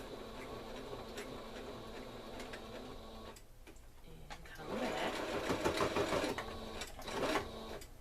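A sewing machine runs while back stitching a placemat handbag, a busy mechanical whir with rapid ticking stitches that pauses briefly and then resumes louder, with faint room noise around it.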